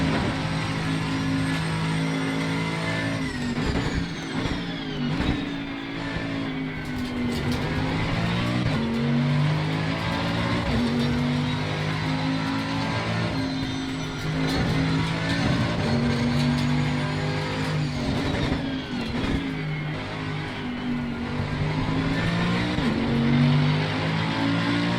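A Mercedes AMG GT3 race car lapping Kyalami in Assetto Corsa Competizione screams through repeated rises and drops in revs as it shifts gears and brakes into corners, loud and close throughout.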